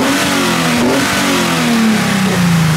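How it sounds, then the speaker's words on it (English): A Nissan 370Z Nismo drift car engine revs hard and loud at close range, its pitch swinging up and down through repeated throttle blips, with strong intake roar over a low rumble. "That's nice because you could actually hear the intakes too."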